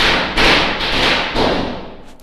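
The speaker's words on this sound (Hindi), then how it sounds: "बच्चे गली में पटाखे फोड़ रहे हैं" Firecrackers burst out in a street, three dull booming thuds spaced about half a second apart, each trailing off into a rumbling wash, heard from indoors.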